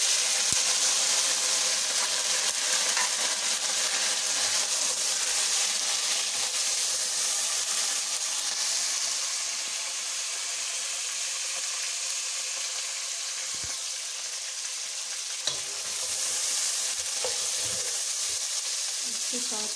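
Tomatoes and green chillies fry in hot oil for veg pulao, giving a continuous close sizzle with soft crackles that eases slightly in the middle and picks up again near the end.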